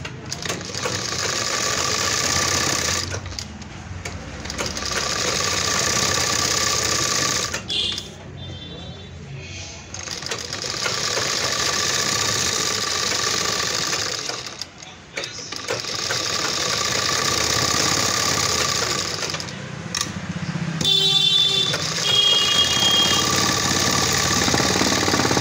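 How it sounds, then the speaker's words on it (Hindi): A sewing machine stitches a lehenga blouse neckline, running in steady continuous bursts with short pauses between seams, close and fairly loud with no talking. "अब ये फ्रेंड्स नीचे भी सिलाई लगा लेंगे"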